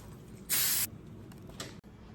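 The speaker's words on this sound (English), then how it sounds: "I'm just gonna spray the pan." A short, sharp hiss of cooking spray from an aerosol can onto a pan, one burst followed by a fainter second puff in a quiet room.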